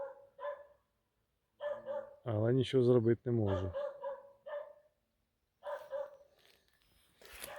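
A dog barks in a forest at night, a short burst of loud, rough barks in the middle while someone talks quietly before and after.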